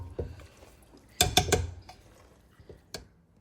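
Metal fork clinking against a pot while stirring raw jackfruit biryani, a few sharp scattered taps with a quick double strike in the middle, close and clear with no talk.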